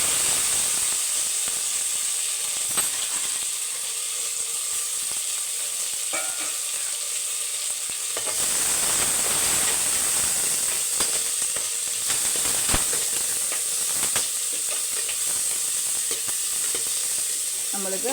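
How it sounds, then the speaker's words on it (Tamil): Curry leaves and small shallots sizzle steadily in hot oil, a continuous dense crackle with occasional sharper pops and light stirring clicks, for a crab masala dish. "இப்போ வெங்காயம் வதங்கட்டும்"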